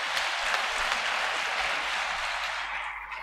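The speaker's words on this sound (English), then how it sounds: "let's give them a round of applause" Sustained applause from a large audience at a military pipping and commissioning ceremony, dense steady clapping that continues evenly throughout and fades slightly at the end.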